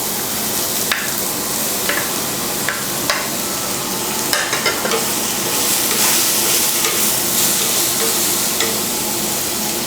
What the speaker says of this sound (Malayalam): ഇനി നമുക്കിതിലേക്ക് വെണ്ടയ്ക്ക ചേർത്ത് കൊടുക്കാം.